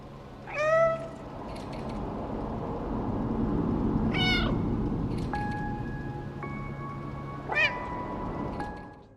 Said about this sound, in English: press the designated meow button, this will happen